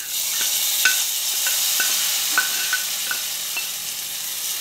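A spoon scrapes and taps rhythmically against a pan as cooked jackfruit seeds are stirred into frying chilli masala for a jackfruit seed and mango curry, with a soft sizzle underneath each close stroke.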